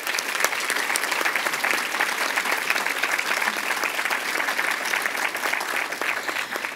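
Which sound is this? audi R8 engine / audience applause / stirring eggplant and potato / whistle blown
audience applause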